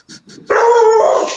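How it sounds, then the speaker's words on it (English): A dog gives two short soft yips, then one loud sustained bark-howl close by, with no talk over it. "Even the dog barked at that one."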